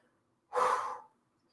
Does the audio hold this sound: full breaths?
yes